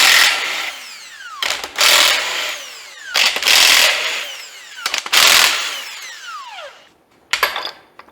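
Power tool whirring in repeated bursts while loosening main bearing cap bolts on an 81 Ford F100 stroker 394 engine block, four or five loud near spins with short pauses between.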